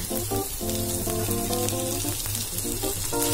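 Sabudana and potato sauté in a hot pan, with a soft continuous sizzle and frying crackle under faint background music, alone without talk.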